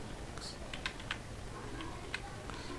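Keystrokes on a computer keyboard entering a boot repair command, a scattered run of light clicks at an irregular rhythm over a faint steady room hum, close and fairly quiet.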